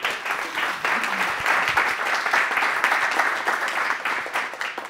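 An audience at a panel discussion on Mulhouse as a city of the future claps steadily and fairly loudly for several seconds, with no talking.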